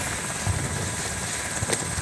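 Helicopter in the Modern Warfare 2019 campaign video game, a loud, steady rotor and engine roar throughout with a few brief thumps.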